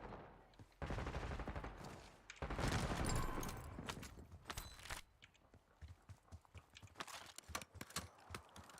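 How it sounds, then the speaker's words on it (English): Gunfire in Call of Duty: Warzone, with loud, close shotgun blasts followed by a rapid burst of sharp shots and clattering impacts, no talk. "That's a shotgun."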